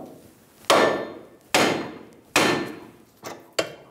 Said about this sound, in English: We're going to bonk the side of the knuckle where the tie rod end is sitting in to release the pressure.